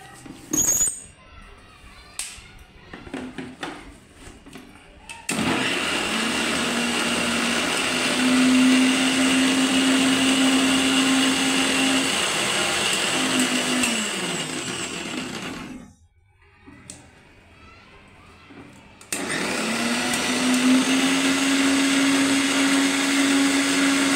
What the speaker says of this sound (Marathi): आता हे आपण मिक्सरला जाडसर वाटून घ्यायचं आहे.